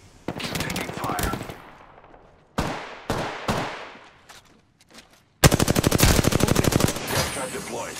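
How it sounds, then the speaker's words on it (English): Automatic weapon fire from the Apex Legends video game: close, loud bursts of rapid shots, with short gaps between volleys and then a long sustained stream of fire, with some talk underneath. "Shots fired, and they're hitting me."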